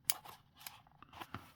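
Scissors snip thread while a leather bag is hand-sewn, giving a few short, close, crisp cuts spaced out over a quiet background.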